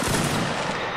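Musket fire from a Napoleonic reenactment line, one short loud boom with a rumbling tail, close by with no talk.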